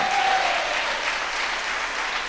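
A church congregation clapping loudly together, a dense sustained roar of applause throughout with a brief tonal voice at the start.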